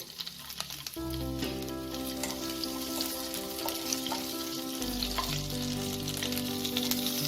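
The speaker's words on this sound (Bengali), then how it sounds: "এতে আমি একটা পেঁয়াজের পাপড়ি আর একটা ক্যাপসিকাম আমি হালকা ফ্রাই করে নেব।" Onion and capsicum sizzle loudly in hot oil, a dense close crackle that starts abruptly and continues steadily, with a low hum underneath.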